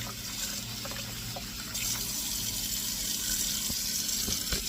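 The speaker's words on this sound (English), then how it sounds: "I'm going to take the leaves and I'm just going to rinse them pretty good." Tap water runs steadily into a sink as leaves are rinsed beneath it, a close, continuous rushing splash that grows slightly fuller partway through, with occasional small knocks and no talking.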